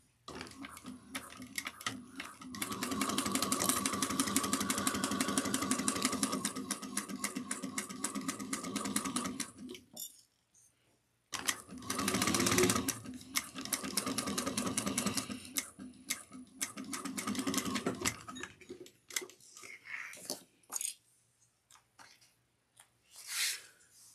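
Sewing machine stitching a sunglasses case with a 3/8 inch seam, running in two long bursts of rapid mechanical ticking separated by a short pause, followed by softer intermittent handling noises.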